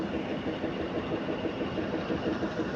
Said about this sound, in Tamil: மங்களூர் வண்டி கரூரில் கரெக்டாக ஆறு பதினஞ்சுக்குங்க